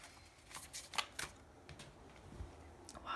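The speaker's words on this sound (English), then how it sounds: "I'll shuffle one more time." Tarot cards are shuffled in quick, soft riffling bursts, a handful of papery flutters spread over a few seconds, faint and close against a quiet background.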